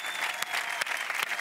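Enthusiastic applause from a live talk-show studio audience in Ibiza, dense continuous clapping with a few louder claps standing out, close and full, with no speech.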